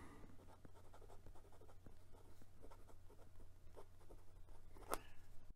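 Faint scratchy strokes of a Wing Sung 601A fountain pen nib dragged in reverse across paper, soft and close, with irregular short scrapes and one sharper catch near the end.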